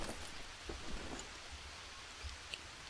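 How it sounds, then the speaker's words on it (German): Steady rain in the video game Green Hell, a soft continuous patter with occasional louder drops, fairly quiet and with no talking. "Das regnet mir definitiv zu oft."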